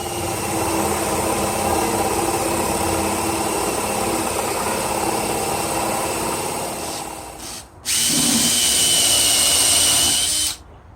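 Power drill running steadily while a woodworking bench is built, a continuous whine that dips near seven and a half seconds, then restarts brighter and higher for a few seconds before cutting off.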